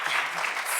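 Audience applause for a team at a handmade-business research launch event, a short steady burst of clapping from a crowd, fairly close and continuous with no talk over it.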